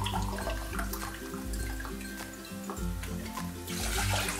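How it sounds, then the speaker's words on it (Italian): Water runs and splashes into a cooking pot holding white rice in a home kitchen, a steady moderate gush with a louder surge at the end. "Metto un bicchiere di riso bianco e tanta acqua, ma veramente tanta."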